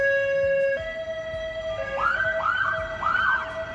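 An ambulance siren from a nearby ambulance station, loud and close, starting as a steady two-tone wail and then switching to rapid rising whoops repeating about every half second, with no talk over it.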